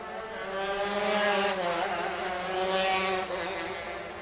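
Stock Honda race cars run nose to bumper past the start-finish line at the Lone Star Grand Prix, a loud, high-pitched engine howl that sweeps through with rising and falling pitch as they pass close by, no voices.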